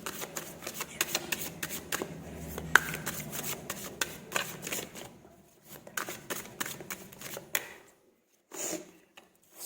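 Tarot cards shuffled by hand in a close, quiet room, a run of quick crisp riffles and slides that thins out near the end, with no talking.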